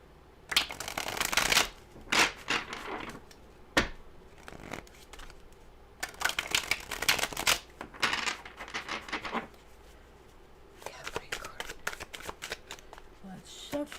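Tarot cards are shuffled by hand in several close, crisp bursts of riffling and slapping, separated by brief pauses.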